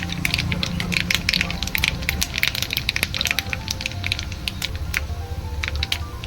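Cumin seeds hit hot oil just after mustard seeds while a dry cluster bean bhaji is cooked. A close, steady sizzle with dense crackling and popping continues throughout.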